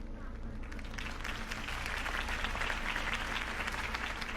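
Sustained crowd applause and cheering after a campaign speech in a Batman video game, a dense, continuous wash of clapping from a large audience holding steady throughout.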